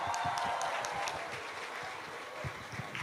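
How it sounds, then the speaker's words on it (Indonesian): A university audience at Unisba applauds, a dense, even wash of many hands clapping that holds steady and sounds slightly distant, with scattered crowd voices underneath. "Tepuk tangan nih buat Sally sama Hamal tuh"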